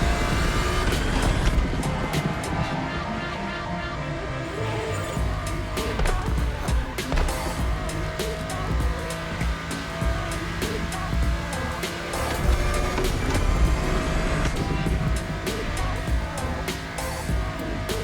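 GT1 race car engine in The Crew Motorfest video game, a loud continuous roar with rising and falling revs and gear shifts throughout.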